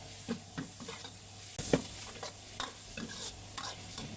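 Minced pork with shallots stir-fries in a hot pan, a steady close sizzle broken by repeated scraping and clinking of a spatula as the meat is stirred apart.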